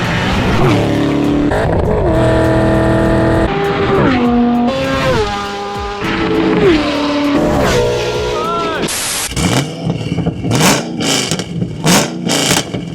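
A tuned Chevrolet Camaro ZL1 with new fuel injectors accelerates hard from a standstill, its engine climbing through several rising gear pulls with brief drops between shifts, loud and close, before a burst of noisy interference.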